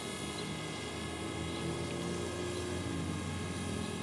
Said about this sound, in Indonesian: Saya turunkan drone-nya ke posisi atas saya ya.